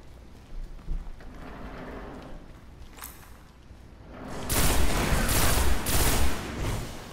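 Burst of rapid gunfire in an online shooter match, starting faint and sparse, then swelling into loud, dense volleys of shots over the last few seconds with no talk.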